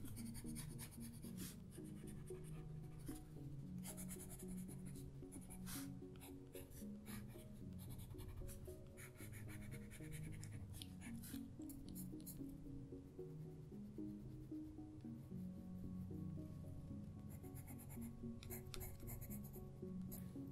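An 8B pencil sketching on paper, making a steady, close, continuous scratching of dense strokes with brief pauses and no talk.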